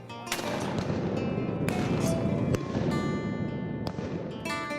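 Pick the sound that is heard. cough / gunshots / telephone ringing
gunshots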